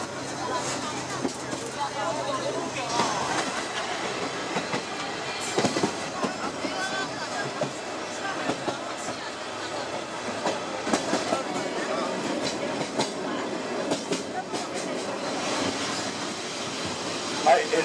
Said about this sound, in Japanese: 列車徐行しております